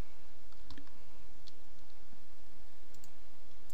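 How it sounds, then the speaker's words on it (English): Computer mouse clicks at a desk, a few sharp, isolated taps spaced irregularly over a steady low hum, close and crisp with no talk. "click the top view."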